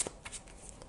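A brief riffle of Osho Zen tarot cards being shuffled by hand, a quick close flutter of card edges lasting under a second.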